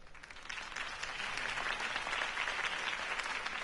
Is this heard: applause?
yes